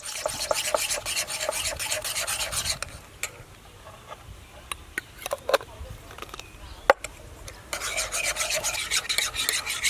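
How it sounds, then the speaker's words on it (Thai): Half a tablespoon of monosodium glutamate is stirred into a photosynthetic bacteria culture, giving steady close scraping and rubbing that pauses midway for a few sharp clicks and taps, then resumes. "แล้วก็ใช้ผงชูรสประมาณ ครึ่งช้อนโต๊ะนะครับ ครึ่งช้อน ผสมให้เข้ากันเลยครับ"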